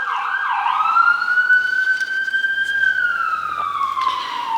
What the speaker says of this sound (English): I'm going to let this ambulance go by here real quick.